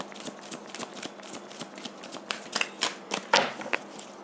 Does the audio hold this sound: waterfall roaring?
no